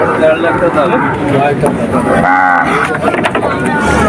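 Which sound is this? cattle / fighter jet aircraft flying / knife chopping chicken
cattle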